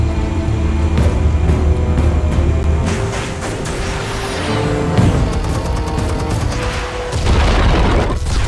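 Heavy explosive blasts go off in the Batman: The Telltale Series video game, loud booming detonations layered with rumbling and crackling debris that rise and swell across the whole stretch, with no one talking.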